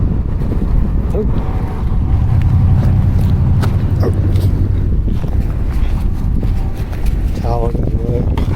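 Wind rumbles and buffets steadily outdoors during plein air oil painting of pumpkins, a low continuous roar with gusty bumps, while faint talking is heard underneath.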